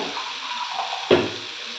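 Water pours into a cooking pan of frying eggplant and potato with a steady hissing splash, broken by one brief knock partway through.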